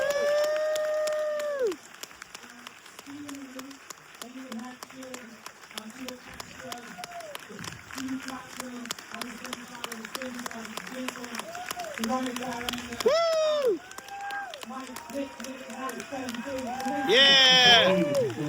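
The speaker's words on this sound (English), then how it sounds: "can everyone please give another round of applause for these actors?" An audience at a film premiere applauds and cheers for the actors, with clapping spread throughout, high whoops and shouts rising near the end, and voices talking over it.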